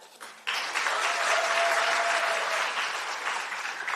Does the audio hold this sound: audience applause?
yes